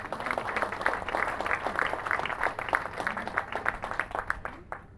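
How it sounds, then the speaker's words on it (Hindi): An audience at a Kangen water product demonstration breaks into applause, a steady patter of many hands clapping at moderate distance that thins out toward the end. "तालियां हो जाए बहुत ज्यादा।"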